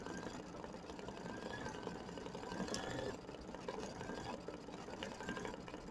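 An embroidery machine stitches a tack-down and decorative fill on a Kimberbell mini quilt, a steady, fast mechanical hum and patter running faintly and continuously without pause.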